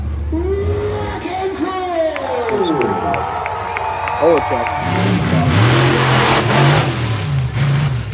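The Wrecking Crew monster truck, an old chassis driven hard, revs its engine loudly through a run, rising and falling in sweeping bursts over a cheering crowd, with an announcer talking over it.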